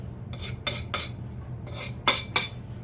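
A hand file rasps along an axe edge to remove the burr, about seven distinct strokes in short irregular bursts, the last two loudest, heard close with no talk.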